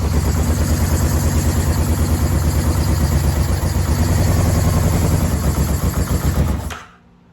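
A muscle bike motorcycle engine idling on choke with a carburetor needing cleaning, a steady loud rhythmic chug that runs evenly for several seconds, then cuts out abruptly.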